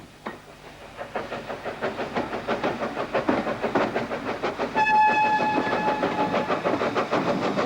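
Bluebell, a Southern Railway steam locomotive, propels its shuttle train at Horsted Keynes with loud, rapid rhythmic exhaust beats and clanking wagons, then a sustained steam whistle sounds over the running train.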